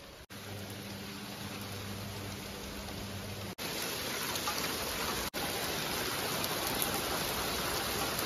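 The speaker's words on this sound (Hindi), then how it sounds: "मौसम देख वर्षा स्टार्ट हो गला कंटिन्यू फिर" Steady rain falls during monsoon-season travel, a dense even hiss of drops filling the scene for the whole stretch, broken only by a couple of brief clicks, with no voices.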